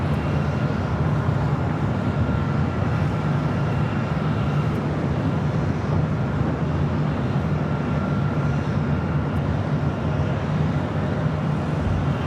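An airliner takes off at Los Angeles airport with a constant, loud engine roar that stays steady and even throughout, heard from a distance with no voices.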